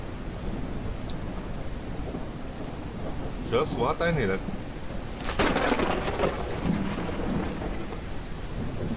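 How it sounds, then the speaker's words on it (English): Steady rain hisses through a thunderstorm in the survival game Mist Survival, with two rumbling thunder cracks rising in the middle, while someone speaks briefly over the storm. "Some crazy storm going on."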